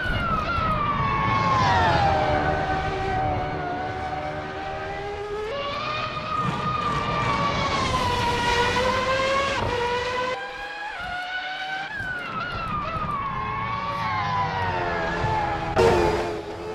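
A 1998 McLaren MP4-13 Formula 1 car in Assetto Corsa at Spa-Francorchamps, its engine screaming loud and close in a high continuous whine that rises and falls through upshifts, with a brief dip near the end.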